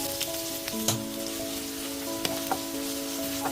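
Chopped onions hitting hot oil in a pan for a potato thoran, a steady close crackling sizzle with scattered sharper pops and a faint background hum, no voices.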